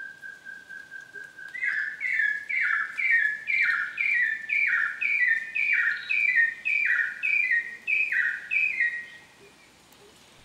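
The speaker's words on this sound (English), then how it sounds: "Wonderful birds calling there from the forest. I believe that's laughing thrush." A laughing thrush calls repeatedly in a rapid series of clear, descending whistled notes, fairly close, over faint forest ambience near Kaeng Krachan National Park, Thailand, then stops.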